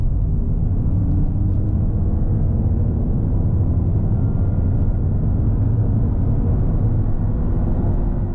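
A 2022 Lexus UX250h hybrid compact SUV with an eCVT accelerating from 30 to 70 mph, heard from inside as a steady, deep low rumble of engine and road noise that holds constant throughout.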